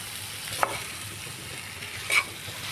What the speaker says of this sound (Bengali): আলু আর সোয়াবিনটাও দিয়ে দিচ্ছি এবার সব কিছু দিয়ে একসাথে ভালো করে মিক্সড করতে হবে